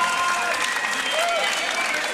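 Crowd applauding and cheering after a Grand Beatbox Loopstation Battle quarterfinal round, a dense, steady wash of clapping held at the same level for a couple of seconds with an excited voice faintly over it.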